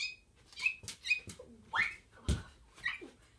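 A person imitates baby bird chirps with a series of short, high squeaky whistles and peeps, quiet and close, with small mouth clicks between.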